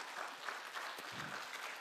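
Audience applause at a young adult literature festival, a brief, faint patter of clapping heard at a distance for under two seconds.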